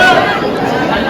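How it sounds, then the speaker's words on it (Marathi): A dense crowd of pilgrims chatters at the Akkalkot Swami Samarth temple during Datta Jayanti, a close, loud babble of overlapping voices. "बघा भरपूर गर्दी आहे अक्कलकोटला."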